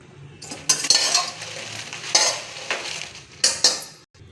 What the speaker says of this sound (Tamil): இதனால் இது மட்டும் எடுத்துகிட்டு மீதி மிளகா வறுத்துடலாம்.